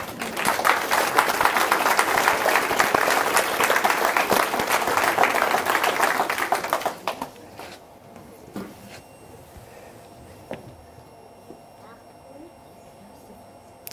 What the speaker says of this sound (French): mérite des applaudissements